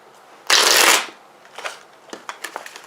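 A deck of tarot cards gets one loud, close riffle shuffle lasting about half a second. Softer card taps and handling noises follow, with no talking.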